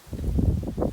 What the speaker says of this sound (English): Sorry for the wind, it's windy out today.